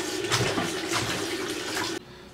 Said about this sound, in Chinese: 把菜洗一下。